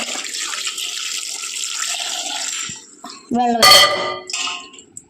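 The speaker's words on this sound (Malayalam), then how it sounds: "വെള്ളം ഒഴിച്ചിട്ട്" Water pours steadily into a cooking pot for about three seconds, a continuous rushing splash, followed by a brief clink and a short burst of voice.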